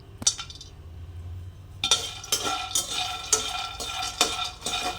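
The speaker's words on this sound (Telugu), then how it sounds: "పల్లీలు తీసుకుని ఇలా ఫ్రై చేసుకోవాలి" Peanuts are dry-fried without oil and stirred in a pan, making repeated scraping and rattling strokes with sharp clinks of the utensil against the pan, steady and close with no talking.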